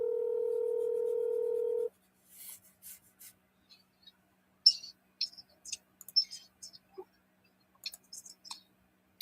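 A phone dial tone hums steadily for about two seconds before cutting off as a cold call to a seller is placed, followed by faint scattered clicks and taps of handling the phone in a quiet room.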